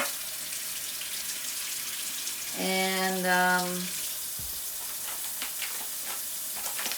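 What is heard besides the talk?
running hot water from tap for rice paper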